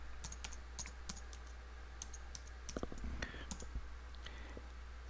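Light, rapid clicks of a computer keyboard as a password is typed, with an irregular burst of keystrokes over a steady low electrical hum.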